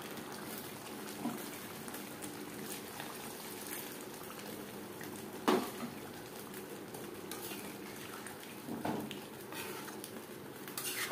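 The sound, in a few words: chicken and potato curry simmering after water is added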